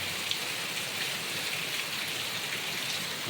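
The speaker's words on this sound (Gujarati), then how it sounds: "જબરદસ્ત વરસાદ પડે છે." Constant heavy rain drums and hisses evenly on a farm, flooding the fields, loud and close, with no other sounds.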